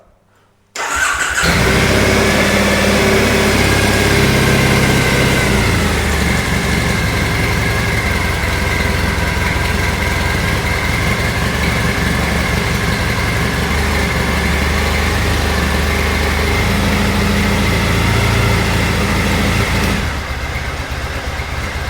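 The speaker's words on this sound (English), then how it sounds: "So, at least the bike starts again." A Triumph Bonneville motorcycle engine catches and settles into a loud, steady idle that runs continuously with a constant rumble, close by.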